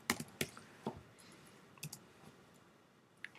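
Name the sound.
typing numbers on a computer keyboard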